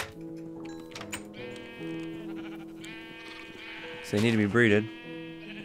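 A sheep in a Minecraft-style game gives a loud, wavering bleat near the end, rising clearly over a player's ongoing talk and soft background game music.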